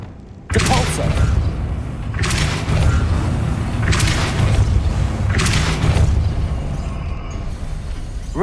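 A Depulso spell cast in Hogwarts Legacy bursts in abruptly, followed by a series of loud booming blasts and whooshing surges that recur every second or two over a dense, rumbling game background.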